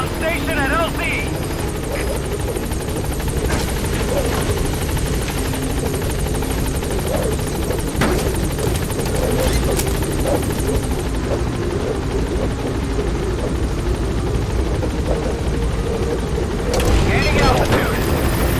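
A military helicopter in a Metal Gear Solid game thunders with a loud, steady rotor drone for the whole stretch, swelling slightly near the end, while radio-style voices talk over it.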